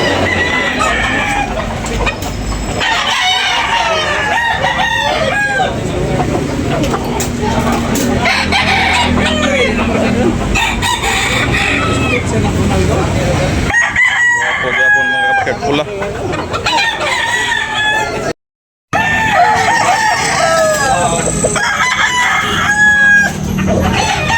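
Roosters crow repeatedly and hens cluck at a busy chicken market in Tabunok, with many birds calling over one another continuously, close and loud, while people talk in the background.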